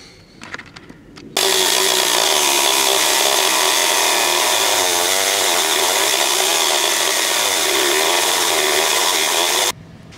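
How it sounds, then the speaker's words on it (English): An angle grinder cuts into the double-layer metal of a 1992 first-generation Ford Explorer during a fuel pump replacement, a loud continuous whine held for about eight seconds, starting and stopping abruptly. "So what I'll do is I'll start a cut here with the grinder, and then I'll just take the Sawzall"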